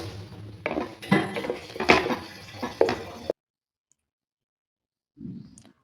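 Spoon scrapes and clinks against a pan while stirring an almond burfi mixture with milk, a few uneven knocks and scrapes, then silence and a brief final scrape.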